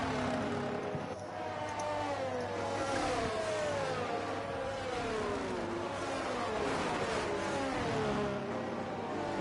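Racing cars at the Hungarian Grand Prix in a video game, engines whining and shifting through gears, a dense, continuous pack of overlapping engine notes rising and falling at moderate loudness.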